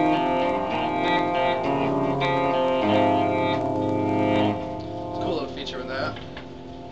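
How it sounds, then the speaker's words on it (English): Electric guitar run through a TC Electronic G-System reverse effect, sustained swelling chords and notes that rise and blur together, fairly loud and close with no talking. "Also, what you're hearing is a reverse feature,"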